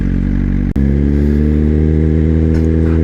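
A 2024 Suzuki GSXR1000 motorcycle with a LeoVince exhaust idles loud and close, holding a steady deep rumble with a brief dip partway through.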